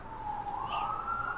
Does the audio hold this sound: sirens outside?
yes